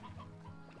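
Clucking chickens in the video game Slime Rancher, a few short clucks over a steady low hum of game ambience, fairly faint and with no talking.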